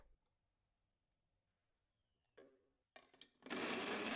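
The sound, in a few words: blender blending pork loin, garlic and shallot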